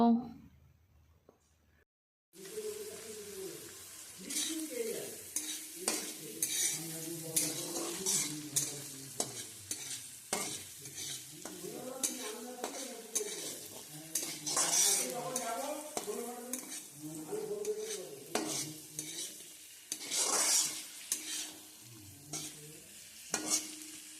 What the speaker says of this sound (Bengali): পেঁয়াজ কুচিটা আমি তেলের মধ্যে খুব ভালো মতো ভেজে নেব